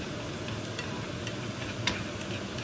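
Small pieces stir-frying in hot oil in a pan for a Vietnamese noodle soup, a steady soft sizzle with faint clicks of stirring, quiet and even throughout.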